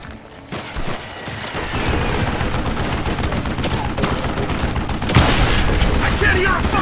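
Gunfire rattles in Call of Juarez: Gunslinger as a sustained run of close shots with a sharper burst near the end, while a voice talks over the shooting.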